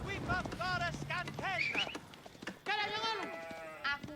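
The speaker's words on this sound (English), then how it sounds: "Sheep getting dropped off." Sheep bleat repeatedly in a real-time strategy game match between MarineLorD and Bee, the short wavering calls mixed with game effects and heard under a commentator's talk.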